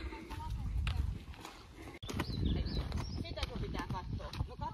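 Horses led out on foot, with steady clip-clopping hooves sounding close by under continuous talk and background voices.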